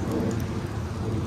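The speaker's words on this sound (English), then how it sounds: "it's raining again" Rain falls steadily during a motorcycle camping trip in Norway, a continuous even hiss with a low rumble underneath, fairly close.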